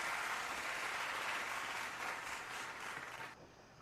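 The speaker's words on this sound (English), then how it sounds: "therefore you get a round of applause" A round-of-applause sound effect plays as a dense, steady wash of many hands clapping. It holds at an even level, fades slightly, then drops off sharply just before the end.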